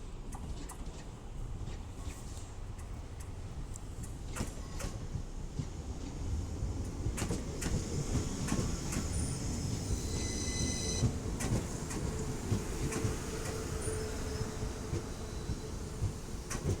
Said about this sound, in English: Now coming in is another 333 for Northern from Leeds.